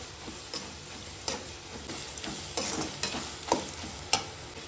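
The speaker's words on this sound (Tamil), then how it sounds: "தேங்காய் போட்டு கொஞ்சம் நேரம் வதக்கலாம்" Grated coconut and onions are sautéed in a pan, a soft, low sizzle broken by spoon scrapes and taps at irregular intervals.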